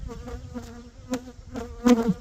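Honey bees buzz close by near a swarm box, a steady droning hum with individual insects swelling louder as they pass the microphone.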